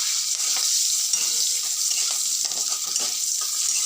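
Cashews and curry leaves frying in hot oil, a loud, continuous crackling sizzle with faint stirring underneath.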